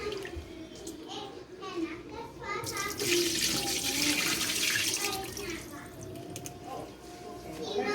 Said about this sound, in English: Okay, and wash it again. So we're washing cilantro?